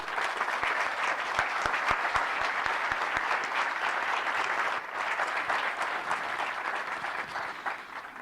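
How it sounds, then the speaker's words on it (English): Sustained audience applause at a town hall gathering, an even, dense wash of many hands clapping at moderate distance for several seconds without a break. "Applause."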